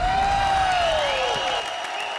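A comedy-show audience bursts into loud, dense applause that stays steady throughout, with a falling whistle-like tone sweeping down over the clapping.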